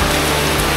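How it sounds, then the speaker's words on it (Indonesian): Rain pours down outside a nearly collapsing house as children play in it, a dense, loud, steady hiss with no breaks and no voices standing out. "Nah itu anak-anak pada mandi hujan tuh."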